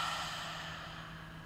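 A long, slow breath drawn or released during sunset yoga, a soft airy rush close to the mic that tapers off over a second and a half.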